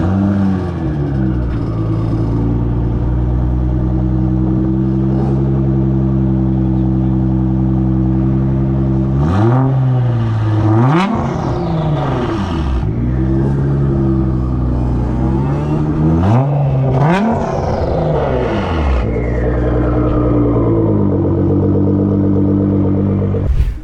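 A Nissan GT-R R35 on Réunion rumbles loudly through about 24 seconds, its engine revved hard several times with rising and falling sweeps before settling back to a steady idle, with no talk over it.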